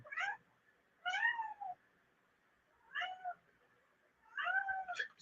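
A house cat meows four times indoors, short nasal calls spaced a second or two apart, fairly faint and alone in a quiet room.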